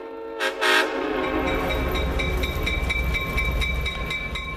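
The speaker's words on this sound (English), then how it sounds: "Restored Clinchfield F7 No. 800 was pulling the train, leading SD45 No. 3632 and two CSX F40 PHs." A diesel train led by a restored Clinchfield F7 locomotive, with an SD45 and two CSX F40PHs, rumbles past with a loud, sustained horn blast, engines droning steadily and wheels clattering on the rails.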